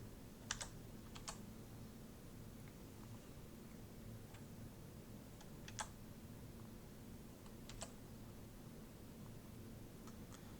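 Computer keyboard keys tapped in short irregular bursts while numeric coefficients for a blade lift profile are entered, light close clicks over a steady low hum.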